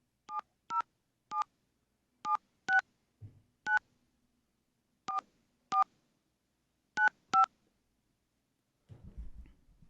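Telephone keypad dialing tones, a string of about a dozen short, evenly clipped beeps in small irregular groups, fairly quiet and isolated, followed by a brief low rustle at the end.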